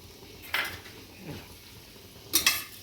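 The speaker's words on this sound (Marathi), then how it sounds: "त्यामध्ये आपण हा बारीक चिरलेला कांदा टाकून घेऊ." Metal utensils clink against a pot as finely chopped onion drops into hot oil for chicken curry, then another quick burst of clattering stirs. No one speaks.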